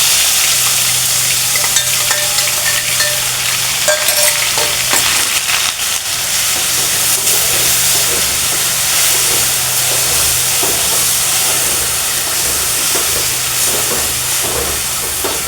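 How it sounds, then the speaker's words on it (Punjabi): Garlic, onion and green chili paste fries in a pan for palak paneer, giving a loud, continuous sizzle with hissing steam and occasional stirring scrapes throughout. "ਇਹ ਜਿਹੜਾ ਲਸਣ ਪਿਆਜ਼ ਤੇ ਹਰੀ ਮਿਰਚ ਦਾ ਪੇਸਟ ਆ ਇਹਨੂੰ ਆਪਾਂ ਪਾ ਦਿੰਦੇ"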